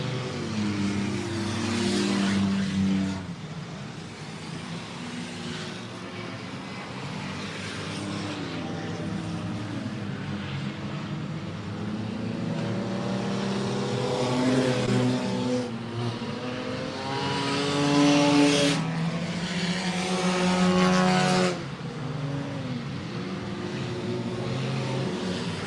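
Front-wheel drive race cars lap Kalamazoo Speedway in an enduro, a continuous roar of several engines rising and falling as cars pass, with louder surges of a close pack amid the steady crowd-like rumble.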